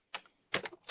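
A paper trimmer slices through card stock at a crafting table, giving two or three quick, dry cutting strokes with short gaps of quiet between them, close by and with no talking.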